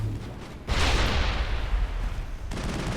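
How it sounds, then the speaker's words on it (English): Grenades explode in the video game Mass Effect. A sudden loud blast hits early and leaves a rumbling roar, and a second burst follows near the end. "Let's test out these new grenades."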